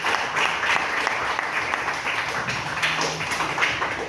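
A church congregation claps together in a strong, sustained burst of applause, with dense overlapping hand claps filling the room for several seconds and a few voices faintly mixed in.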